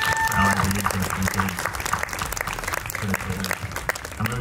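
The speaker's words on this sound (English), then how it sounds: "can we give it actually a round of applause?" Applause from a festival audience for the organizers, dense clapping with some voices and a cheer under it, fairly loud and close, continuing steadily over the whole stretch.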